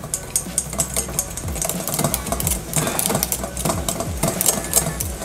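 Lemon curd mixture stirred with a skewer or chopstick, producing quick rattling, clicking scrapes against the container in a steady busy rhythm, up close and alone.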